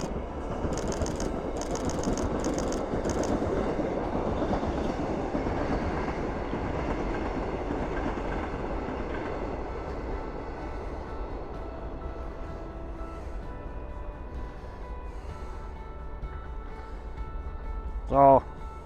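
Train rolling past with a broad rushing rumble that swells early and then gradually fades as it moves away, with faint clicking of wheels, a voice speaking over part of it and a sharp click near the end.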